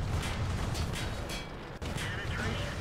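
Tank guns firing in World of Tanks around a Panzer II J and a Panzer I C, dense rumbling booms and impacts over a noisy battle backdrop, with a sharp gap and jolt partway through, a voice talking over it.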